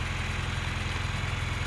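A tractor engine runs steadily on a slippery manure-handling job, a continuous rough, droning rumble with a dense low throb and no pauses or talk.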